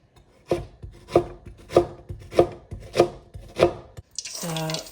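Onions being chopped for pakoras with a knife on a board, six or seven crisp, evenly spaced thuds close by, then a short bright clatter at the end.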